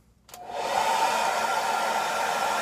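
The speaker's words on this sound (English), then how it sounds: "I'm going to put on a cool blow dryer and just let this dry about 30 seconds." A cool-setting blow dryer runs to dry a skin product on the face, switching on after a brief quiet start and then holding a steady, close, loud whirring hiss alone.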